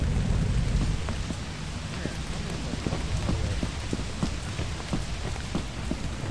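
Steady rain patters densely on surfaces in the video game Lethal Company, with a low rumble of thunder underneath and scattered sharper drop hits throughout, no talk.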